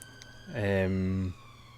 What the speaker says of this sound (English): Apologies for that alarm, that siren.